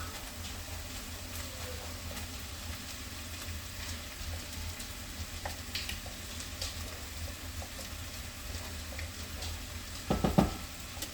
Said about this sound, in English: I'm gonna go ahead and throw in the lentils.